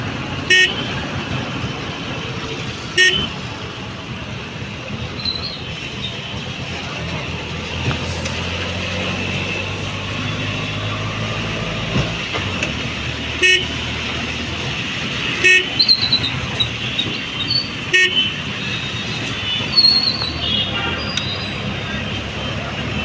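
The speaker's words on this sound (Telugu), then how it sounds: "అటు ఫుల్ ట్రాఫిక్ ఉంది" Busy road traffic near a temple, with steady engine rumble and several short car horn toots scattered throughout, some close and loud, alongside occasional voices.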